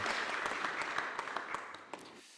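A church congregation at a Sunday worship service claps together, a close, busy patter of hands with sharper individual claps that gradually softens and stops.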